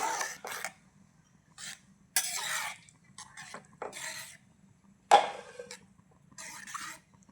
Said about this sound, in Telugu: ఒకసారి తిప్పుదాం